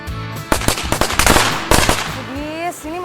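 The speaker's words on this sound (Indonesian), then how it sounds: "Ini masih sore-sore udah pada mainan mercon, ngapain sih?" Firecrackers (mercon) bursting at dusk in a Jakarta street, a rapid cluster of sharp cracks and pops in the first half, followed by a rising whistling tone, with voices faintly underneath.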